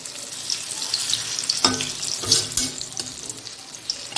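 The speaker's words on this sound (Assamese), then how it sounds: "এইকেইটা অলপমান ভাজিব লাগিব।" Onion and raw banana pakoras fry in a pan with a steady close sizzle and hiss, broken by two louder crackling bursts as the oil spits and the fritters are turned.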